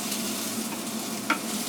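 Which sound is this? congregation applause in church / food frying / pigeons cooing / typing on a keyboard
food frying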